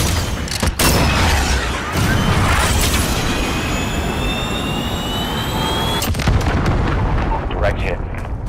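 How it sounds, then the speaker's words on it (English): A video game missile launches with a roaring whoosh and jet-like rush, followed by heavy booming blasts in a loud, continuous battle din. "Missile away."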